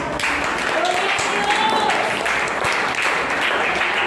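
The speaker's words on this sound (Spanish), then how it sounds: "Yo quiero que ustedes le den un aplauso al Señor" Church congregation applauding, a steady full wash of clapping throughout with a voice or brief sung tone faintly rising above it.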